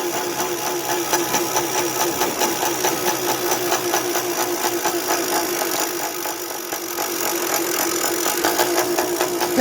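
A small two-stroke motorized bicycle engine idles on E85 fuel, a steady buzzy rattle with fast rhythmic pulsing that holds at an even, close, fairly loud level throughout.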